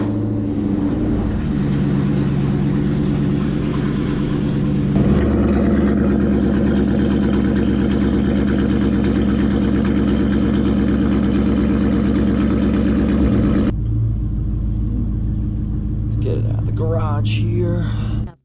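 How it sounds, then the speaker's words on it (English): A Ford Mustang starts cold and settles into a steady, loud, droning idle close by in a driveway, with a brief rise as it catches before the rumble holds evenly and then cuts to a lower hum. "So here we go. Cold start."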